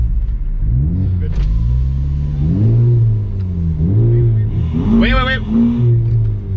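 Hyundai Veloster N DCT and Honda Civic Type R revving before a drag launch, engines surging and dropping in repeated loud rising and falling pulls close by, with people talking over the revs.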